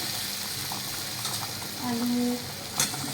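Chicken, potato and papaya frying together in a pan for chicken kosha while being stirred, with a loud, steady sizzle and occasional scraping strokes of the spoon close by.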